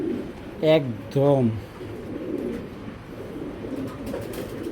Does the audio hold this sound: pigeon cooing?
yes